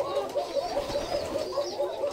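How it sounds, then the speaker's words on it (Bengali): Black Koka pigeons at a pigeon farm give soft, repeated cooing in a steady rhythm, with several birds overlapping at moderate distance against a low background hum. "আমি এই মুহূর্তে আছি আমার কালো কোকা কবুতরের খামারে।"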